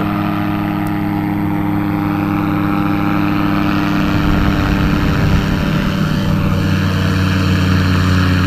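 A steady propeller engine drone from a gyrocopter, loud and continuous, with a slight shift in pitch as it passes overhead.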